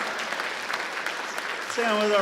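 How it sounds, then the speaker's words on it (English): At a town hall in Allentown, Pennsylvania, a standing audience applauds with a steady, moderately loud clatter of clapping, and a voice begins speaking over it near the end. "Mike, they're giving you a standing ovation"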